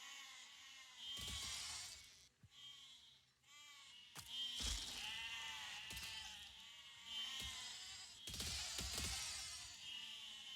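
Sheep in the video game Besiege bleat repeatedly, several drawn-out quavering cries overlapping in bursts, fairly loud and close, with no talking.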